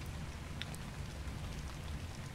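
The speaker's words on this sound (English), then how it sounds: "And, wow, raining." Rain falls in ARK: Survival Evolved, a quiet, steady hiss of drops holding even throughout with no talk over it.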